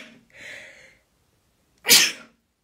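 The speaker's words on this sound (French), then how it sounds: "Pardon, je vais éternuer." A person sneezing indoors, a soft inhaling build-up followed after a pause by one sharp, loud sneeze, close and alone.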